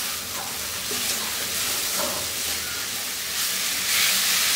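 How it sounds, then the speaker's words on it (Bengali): Potatoes fry in oil with salt, a light frying before they simmer with hilsa fish heads, giving a steady loud broadband hiss and sizzle throughout, with no talking. "স্বাদ মতো লবণ দিয়ে এইটাকে একটু ভেজে নিব, খুব বেশি না।"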